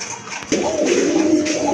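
Pigeons kept for sale, a pair of black-and-white birds among them, give a low steady cooing that starts halfway through and carries on close and fairly loud, with a faint background hiss and no talk.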